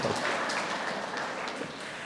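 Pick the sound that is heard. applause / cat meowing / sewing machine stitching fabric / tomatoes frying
applause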